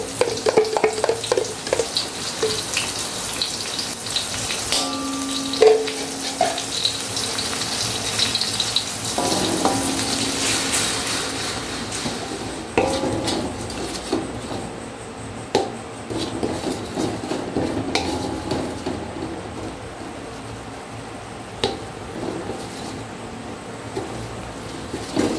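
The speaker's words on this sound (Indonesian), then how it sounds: "Ini ditumis sampai wangi, sampai kering bumbunya." Spice paste with a little red chili being stir-fried in a pan until fragrant and dry, a continuous close sizzle broken by frequent spatula scrapes and knocks, with a brief tonal clatter early on.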